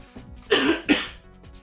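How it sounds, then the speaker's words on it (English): Two rough throat-clearing bursts close together, the second shorter, against a quiet room. "After I'm done clearing my throat there, so."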